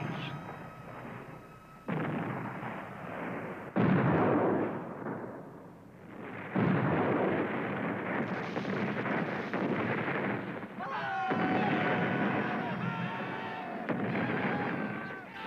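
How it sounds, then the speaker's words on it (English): Series of heavy booming blasts with rumbling decay, several big German-made siege cannon shots in a row amid battle noise of the Russo-Japanese War, some with whistling overtones. "the Japanese pounded the Russians with huge German cannon called Osaka babies"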